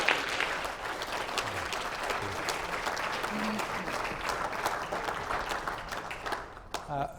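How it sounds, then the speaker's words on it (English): An audience at a lecture gives a warm round of applause for an arriving speaker: dense, even clapping that holds for several seconds and then tapers off. "a warm applause."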